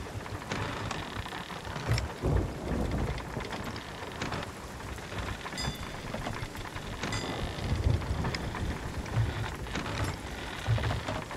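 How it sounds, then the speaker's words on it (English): Steady heavy rain pours through a thunderstorm in the Sea of Thieves pirate game, with low rumbling thunder and gusts of wind rolling beneath the constant downpour. Nobody speaks. "Great, we're in the midst of a storm."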